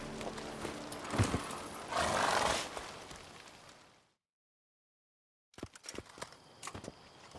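Roach, a horse in The Witcher 3 game, gallops with a dense run of hoofbeats and rustling, breaks off into a few seconds of complete silence, then returns as sharper, scattered clip-clop steps.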